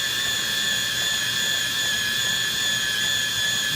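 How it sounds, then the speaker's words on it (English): Cutter resizing a valve stem guide in a 455 Oldsmobile cylinder head, a steady high-pitched whine that holds at an even level throughout, close and loud. "it's starting to cut the valve stem guide"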